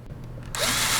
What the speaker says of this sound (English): you'll drill another hole through one of the knockouts in the back of the timer and into the wall